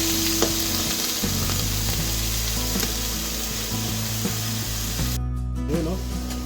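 Squid for adobo fries in a pan with a steady, loud, dense sizzle that runs throughout, with a few faint clinks close by.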